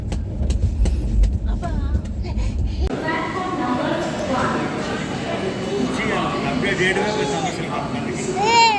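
Low rumbling of a moving train for the first few seconds, then clattering rail noise under people talking nearby.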